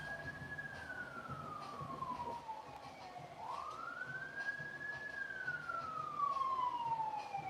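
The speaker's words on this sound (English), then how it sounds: "I don't know if you can hear the ambulances flying by." An ambulance siren wails in New York, its pitch sweeping down and up again as it passes, heard from a distance over low city traffic rumble.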